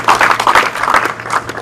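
A small crowd claps at a business's 100th anniversary event as a local economic development director is introduced, a steady burst of hand claps lasting under two seconds, fairly close and loud with no talk over it.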